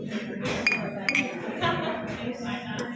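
Drinking glasses clink together in a toast at a meal, giving several bright, close chimes amid overlapping chatter and cheerful voices.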